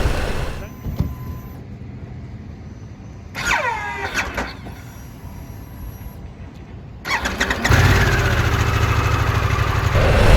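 A Harley-Davidson Pan America motorcycle with an intermittent starting problem: brief clicks and odd squealing, chirping starter noises, then the engine catches and runs with a steady loud rumble, with some voice in the background.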